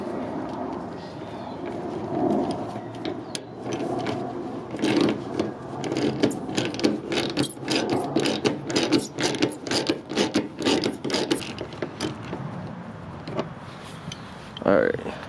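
Ratchet loosening a bumper bolt on a 2012 Dodge Charger, a run of quick close clicking strokes in bursts, with a voice talking underneath for much of it.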